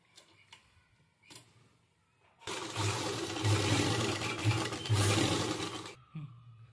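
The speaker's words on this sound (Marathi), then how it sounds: "तर अगोदर आपण शिलाई टाकून घेऊ इथं." An electric sewing machine stitches a fabric sleeve in one steady, loud run of about three and a half seconds, with a few faint clicks and handling sounds before and after.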